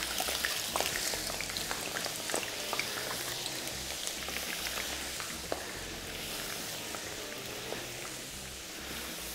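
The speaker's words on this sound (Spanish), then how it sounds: "Y aquí me quedo friendo las patatas fritas, que también es un buen espectáculo" Potatoes crackle and sizzle in hot olive oil, a dense, steady frying hiss dotted with sharp pops throughout, heard alone without talk.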